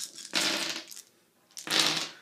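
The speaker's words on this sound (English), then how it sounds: "now each of us roll our dice" Dice rolled for a cooperative board game clatter in two separate bursts of rattling on a surface, each lasting about a second, close and moderately loud with no talk.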